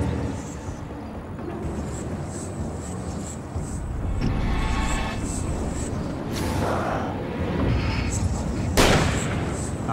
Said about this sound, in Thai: ปืนลั่นครับโทษทีนี่แหละ